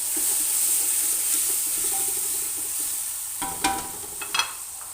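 Onions dropped into hot oil for a Saudi-style camel meat dish, giving a steady loud sizzle throughout, with a few clattering knocks of a utensil near the end.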